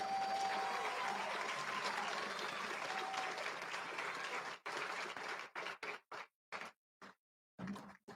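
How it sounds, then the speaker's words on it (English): Applause from a graduation ceremony crowd for the class of 2021, a dense steady clapping that breaks into choppy bursts and pauses toward the end. "Let's have one more round of applause for the unbroken, stupendous, awesome class of 2021."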